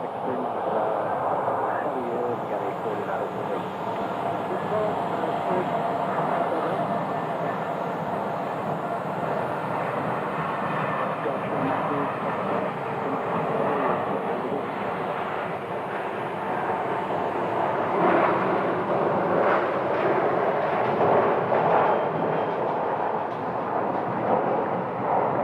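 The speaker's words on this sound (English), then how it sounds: "we have a Southwest departure, 1181 to Atlanta" A Southwest airliner departing Phoenix Sky Harbor airport makes a steady, broad jet roar that swells gently over time, while people talk over it.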